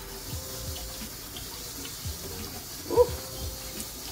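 Hot water runs from a kitchen tap while items are rinsed in the sink, a quiet, steady splashing stream with a small clink near the middle and no talk.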